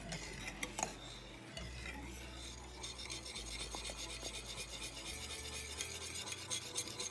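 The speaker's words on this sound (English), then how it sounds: "I'll pull it off the eye and I'll just keep stirring." A spoon scrapes and rubs around a pot of chocolate gravy in steady close strokes, with a low hum underneath and a few light clinks.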